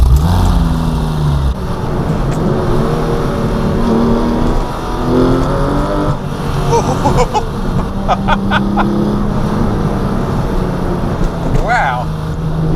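A Porsche 996 GT3, the first water-cooled 911 GT3, driven hard, its engine droning loud and close from inside the cabin, with shifting revs and several sharp rising and falling surges. Talk runs over part of it.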